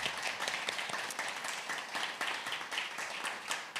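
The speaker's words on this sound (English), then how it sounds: "If we can give the panel a round of applause," Audience gives a panel a round of applause after an online harms and law session, steady dense clapping at a moderate distance, with no talk over it.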